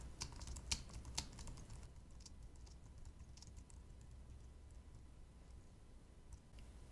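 Quiet typing on a computer keyboard, a burst of distinct key clicks at first that thins into scattered soft taps over a faint background hiss.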